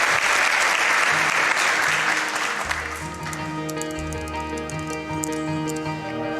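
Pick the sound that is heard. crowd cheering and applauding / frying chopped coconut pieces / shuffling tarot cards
crowd cheering and applauding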